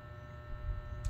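An electric fan runs steadily beside a sleeping puppy, giving a continuous low hum and whir with no break across the moment.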